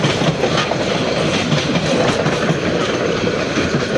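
Jamalpur Express passenger train passing close by on its run toward Joydebpur in Bangladesh, a steady loud roar of wheels and carriages with rhythmic clickety-clack throughout, no voices.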